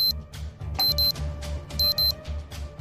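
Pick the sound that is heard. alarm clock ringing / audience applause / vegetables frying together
alarm clock ringing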